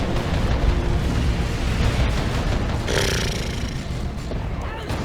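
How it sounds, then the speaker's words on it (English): Dreadnoughts blast tank busters apart in the Warhammer 40k strategy game Dawn of War 2 Retribution: a loud, dense, unbroken wash of gunfire and explosions with a brighter burst of impacts partway through. "the Dreadnoughts just shoot the tank busters to pieces"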